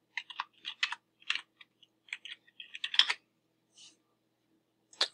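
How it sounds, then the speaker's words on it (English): Quick bursts of keystrokes on a computer keyboard as a name is entered during data entry, crisp close clicks in short clusters with brief pauses, ending in a single sharper tap. "we would type in the owner first name, Saida."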